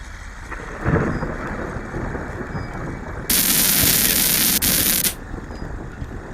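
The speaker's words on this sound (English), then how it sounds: "Definitely some thunder." Thunder rumbles loudly during a storm at the Port of Southampton, with a sharp crack and rolling booms over steady rain and wind noise on an outdoor microphone.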